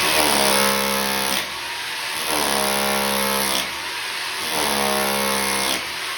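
A loud hammer drill roars steadily into concrete in three long bursts with brief dips between them, harsh and close.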